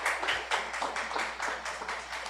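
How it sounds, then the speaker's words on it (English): An audience claps for a young boy during a devotional gathering, a steady patter of many hands sustained across the whole stretch, with no voices over it. "So everybody please clap for my Arvin"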